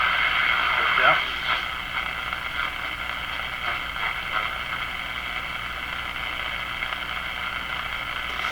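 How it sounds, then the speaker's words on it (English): A shortwave signal on a Crosley G2465 two-band radio, tuned near the 7.4 range, hisses with static as faint voice-like tones swell and fade under the noise. "tuning shortwave is it's fading in and out"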